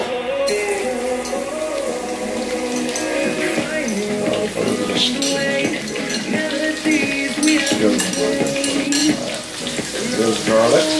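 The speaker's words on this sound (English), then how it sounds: "I'm going to add my garlic." Garlic sizzling as it goes into a sauce vessel over medium heat, a continuous hissing fry with clinks of a pan and stirring, loud and close.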